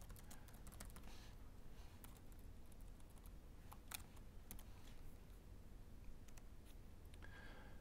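Keys on a computer keyboard being typed in a quick, irregular run of light clicks, steady and fairly close, with no talking.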